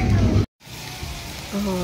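Onions and tomatoes fry in a pan with a steady sizzle, cut by a brief dropout, while someone talks over it.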